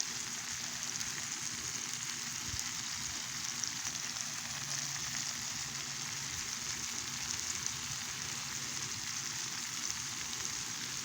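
Food fries in butter on an extra large Bella griddle, a steady, even hiss of sizzling that stays constant at close range for about eleven seconds with no voices.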